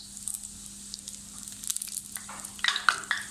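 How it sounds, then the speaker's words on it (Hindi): Puri dough frying in hot oil while pressed down with a slotted spoon, a soft steady sizzle with sharper crackles and bubbling bursts building toward the end, close and alone. "जैसे ही आप पूरी को ऐसे डालेंगे, इसको दबाते जाएंगे।"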